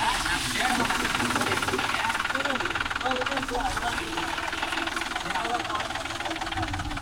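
A John Deere 5105 40 hp 4WD tractor's diesel engine runs steadily and loudly up close, a continuous throbbing drone with a voice talking over it.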